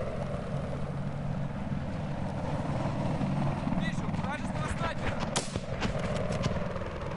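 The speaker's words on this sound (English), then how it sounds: "Who's that chopper?" In a video game, a helicopter's rotor drones steadily across the whole stretch, with a burst of sharp game sound effects near the middle.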